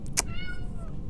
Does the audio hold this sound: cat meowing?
yes